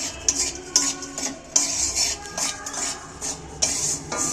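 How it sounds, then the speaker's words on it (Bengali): Salt being dry-roasted and stirred in a pan while making raw mango pickle, a spatula scraping repeatedly with clinking metal-on-metal strokes and a light background sizzle, close and steady with no talk. "এবার নুনটা আমি একটু ভেজে নিচ্ছি।"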